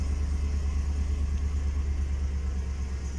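A car engine with an oil pressure sensor fault (code P0521) idles with a steady low rumble, smooth and even throughout with no ticking, heard close up with no voices.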